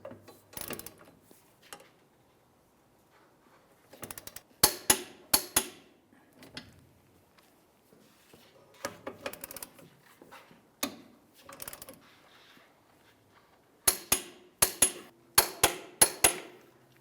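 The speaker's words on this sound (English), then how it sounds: "let's go ahead and torque each of the larger 18mm headed bolts to 141 foot-pounds" A torque wrench tightening 18mm subframe bolts on a 2000-2005 Buick LeSabre: sharp metallic clicks and knocks arrive in scattered clusters with quiet gaps, close by and fairly crisp, with no talking.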